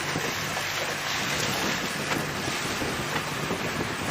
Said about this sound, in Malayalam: നമ്മുടെ ബോട്ടിൽ നമ്മളങ്ങനെ പോവുകയാണ്